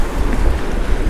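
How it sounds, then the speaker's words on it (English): Rough surf breaks over a shallow Caribbean reef near a small fishing boat, a steady loud wash of water mixed with heavy wind buffeting the microphone, with no voices. "We're over the shallow stuff where the waves are raging."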